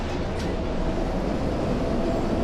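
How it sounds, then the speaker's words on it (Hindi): A metro train arrives at a Beijing station, a loud, continuous rumble and roar that fills the space evenly from start to end, without talk. "तो चलो भाई आ गई मेट्रो।"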